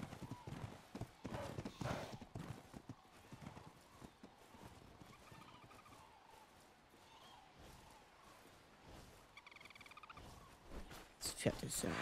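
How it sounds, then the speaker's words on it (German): A horse gallops with quick clip-clopping hooves and whinnies in ARK: Survival Ascended, rhythmic thuds rising and falling amid game sounds, with people talking over it. "Pferd ist ja rasant unterwegs."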